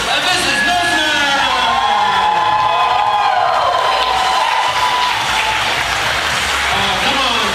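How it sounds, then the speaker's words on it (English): A wedding reception crowd claps and cheers for the bride and groom, a dense continuous wash of applause with whoops mixed in, loud and close, while a voice on a microphone speaks over it. "Let's have a big round of applause for the bride and groom."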